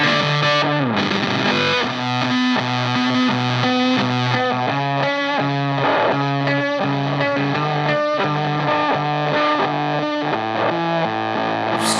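Electric guitar through a unique fuzz pedal with a pronounced filter, playing a steady riff of repeated notes; the tone is waspy, gated and spitty, loud and close throughout.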